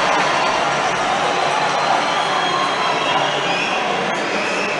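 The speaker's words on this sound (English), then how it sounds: "as you can hear, the crowd on their feet" A packed ice hockey arena crowd roars steadily and loudly during a players' fight at a Belfast Giants game, a dense, unbroken wall of noise.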